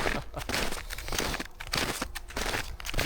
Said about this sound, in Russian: Не стал убирать снегоступы. Сейчас в них иду.